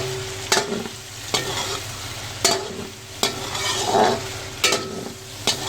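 Chicken with ginger-garlic paste sizzles steadily in a hot pan for Afghani karahi while a spoon stirs and scrapes at intervals, sharp clacks against the metal every second or so.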